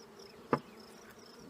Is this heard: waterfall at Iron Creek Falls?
no